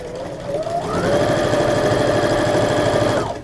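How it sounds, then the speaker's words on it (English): A sewing machine stitches fabric squares together for a sachet, its motor whirring up into a fast, steady close-up buzz of stitches before slowing to a stop. "I'm going to sew just down the side here"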